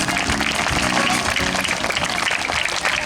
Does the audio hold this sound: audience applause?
yes